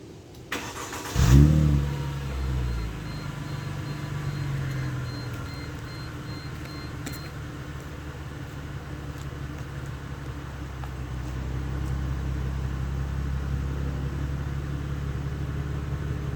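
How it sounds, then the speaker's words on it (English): A Mercedes SLK starting cold after sitting for 24 hours: a sharp starter crank and catch, then a steady, fairly quiet idle holding on alone for the rest of the stretch. "we're set up here behind the SLK. We're going to do a cold start."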